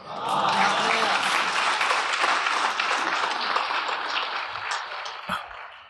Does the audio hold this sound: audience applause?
yes